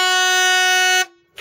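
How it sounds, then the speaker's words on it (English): A single loud, sustained horn blast, the sound signal at a yacht race start at Thorpe Bay Yacht Club, holds steady for about a second then cuts off abruptly. "there is then a second sound signal"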